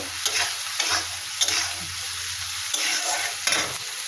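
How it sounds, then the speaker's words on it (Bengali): A fish curry base with salt and turmeric is sautéed in a pan for a potato and chela fish stew. A constant close sizzle runs throughout, with several sharp spoon scrapes spaced through it and no talking. "হলুদ দিয়ে দিলাম পরে এটা একটু কষিয়ে নেব"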